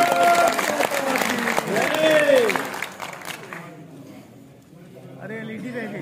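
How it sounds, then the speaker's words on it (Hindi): Clapping from a gathered crowd at a BJP farmers' wing state workshop, dense and steady for a few seconds, then easing off while voices carry on over it. "एक बार जोरदार ताली बजाकर"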